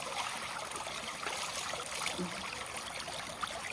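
Cold water runs steadily through a gem mine sluice at a ruby and sapphire mine in North Carolina, a continuous close trickling and splashing stream with no voices.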